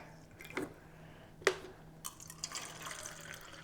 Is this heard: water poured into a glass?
yes